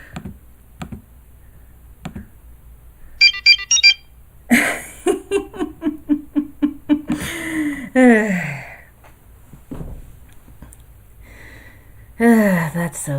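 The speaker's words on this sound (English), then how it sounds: "What's that noise? They looked towards the device on Kim's chest as it was blinking" A quick burst of electronic beeping chirps, followed by voices talking and reacting with gasps and exclamations around it.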